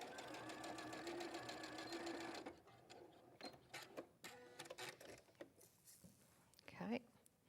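A sewing machine runs in a steady fast stitching burst, stitching across a tacked pleat on a pocket band, then stops; afterward come soft handling sounds and quiet talk.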